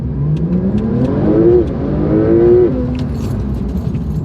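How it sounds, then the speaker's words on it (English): Porsche 911 992 Turbo S engine pulling hard from a standstill toward 60 mph, a loud, steady rising drone with two climbing pitch sweeps as gears change, heard from inside the cabin with a faint rattle over it. "I'm going to accelerate from 0 to 60 back down to 30"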